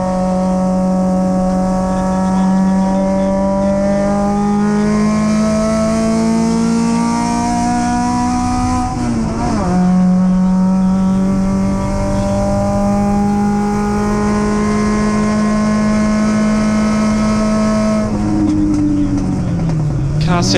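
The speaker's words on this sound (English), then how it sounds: "Sounds like it's pulling strong, Alister." An MG race car engine drones loudly and steadily, pitch climbing through gears with two sharp shifts, close by.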